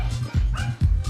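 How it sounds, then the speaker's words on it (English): Dogs, among them a long-haired Chihuahua, let out three quick barks close by, spaced roughly evenly in a short burst. "Alright, the bark brigade is off."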